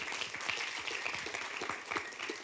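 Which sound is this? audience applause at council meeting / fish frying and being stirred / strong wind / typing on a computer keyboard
audience applause at council meeting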